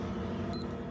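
A Lasika WF 7005 digital wristwatch beeps loudly and sharply in one short double-pulse burst, close up, over faint room hiss.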